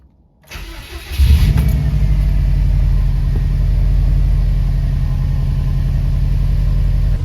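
A Subaru WRX freshly flashed with a new ECU map cranks briefly, then catches and settles into a steady, loud, close rumbling idle with no voices.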